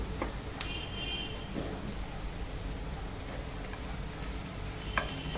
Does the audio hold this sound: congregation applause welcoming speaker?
no